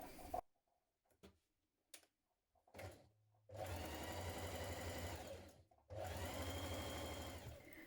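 A sewing machine stitches two parallel gathering lines on a Donny shirt back, starting with a few short test bursts and then running in two long steady whirring passes, close and loud with no talking.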